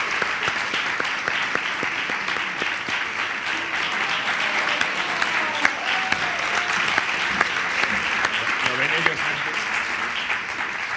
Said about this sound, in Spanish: un fuerte aplauso para Bernal